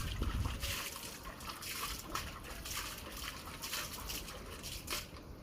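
Water is splashed onto a traditional clay stove in a series of faint, quiet splashes and drips that come in short bursts over a low background.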